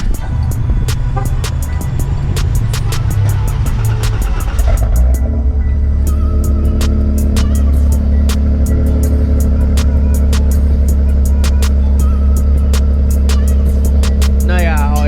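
A Chrysler 200 engine gives a loud, deep rumble that holds steady throughout, with a brief shift in tone midway and faint clicking ticks scattered over it.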